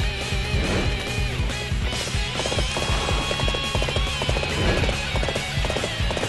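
Horse hooves clip-clop in a quick, steady rhythm, close and continuous, with a faint musical backdrop, in the video game Dynasty Warriors 8.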